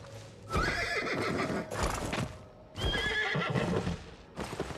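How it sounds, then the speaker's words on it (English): Horse hooves clip-clopping with loud whinnies in an online space game world, two bursts of neighing over hoof beats, close and prominent with no talking. "I just heard somebody else's horse."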